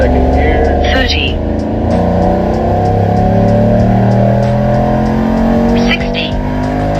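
Whipple-supercharged Ford F-150 pickup truck accelerating hard, a loud steady engine roar with supercharger whine that climbs in pitch and drops briefly at a gear change, running continuously throughout.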